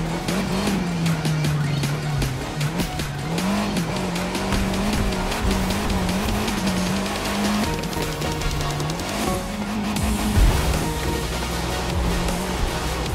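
A small Fiat car driven in the racing game The Crew 2, its steady engine drone rising and dipping through gear changes with occasional tire squeal, loud and continuous with no talk over it.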